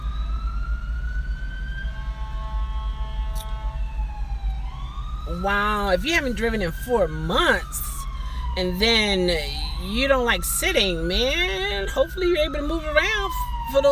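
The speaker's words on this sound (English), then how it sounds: "That's the ambulance." An ambulance siren passes, wailing and then yelping in rising and falling sweeps, heard from inside a car while people keep talking over it.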